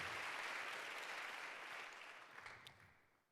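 Applause from an Ignite Seattle crowd for a speaker fades out, starting as a dense wash of clapping and thinning to a few scattered claps before dying away.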